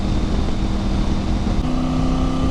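Triumph Tiger 900 Rally motorcycle engine on the road, a steady, loud drone with wind rush while riding, holding an even pitch throughout with a slight shift in tone near the end.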